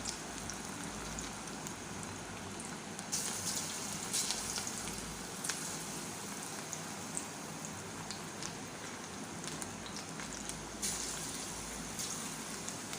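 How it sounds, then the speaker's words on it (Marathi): Moong dal pakodas deep-fry in hot oil over a medium flame, giving a continuous, fairly quiet sizzle and crackle with scattered sharper pops and no talking. "तर हे बघा, अशा प्रकारे आपण पकोडे तळून घेऊया।"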